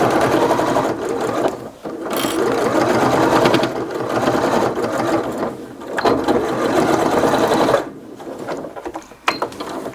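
A sewing machine runs in long bursts while stitching a felt necessaire box kit, its needle chattering rapidly and loudly, with brief pauses between runs.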